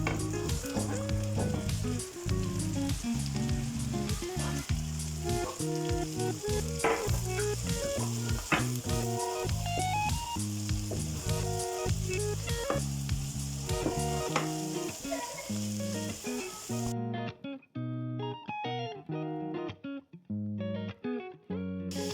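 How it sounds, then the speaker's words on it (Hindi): Vegetables sautéing with garlic in a pan for fried rice, a continuous loud sizzle heard together with steady background music throughout. "अब हमने वेजिटेबल्स को कम से कम 1 मिनट तक सोते कर लिया है।"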